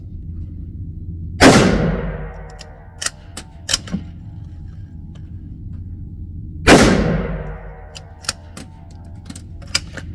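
A Black Creek Labs MRX Bison Ranger rifle fires from a cold barrel during a function test, giving two loud, sharp reports about five seconds apart, each ringing out in a long echo, with faint clicks and ticks in between.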